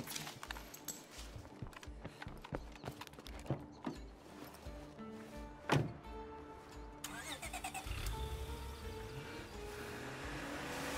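A car engine starts in the zombie survival game State of Decay 2: rhythmic cranking turns, a sharp catch, then a steady, rising idle rumble, fairly quiet overall.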